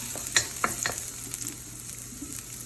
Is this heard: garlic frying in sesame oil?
yes